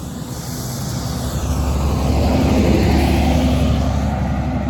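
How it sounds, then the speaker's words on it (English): A city bus's low engine rumble grows steadily louder as it draws near in Hobart, with a broad roar building and no voices. "Here it comes. Whoa, bus coming."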